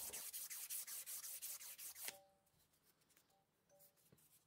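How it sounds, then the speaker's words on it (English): Sandpaper rubbed back and forth on the steel of a Phillips screwdriver bit for a Stanley Yankee ratchet screwdriver, a fast run of close, rhythmic scratchy strokes that stops abruptly, leaving quieter faint workshop sounds. "I'll use some sandpaper to clean the metal back to a shiny colour first"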